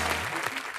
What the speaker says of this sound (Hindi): तालियां मारो भी